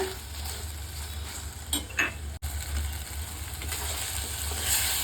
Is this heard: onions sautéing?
yes